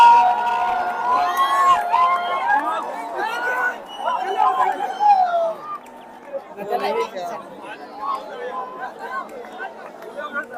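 A large crowd fills Moin-ul-Haq Stadium in Patna during a Ranji cricket match, its dense chatter and babble rising and falling close by, with voices talking through it.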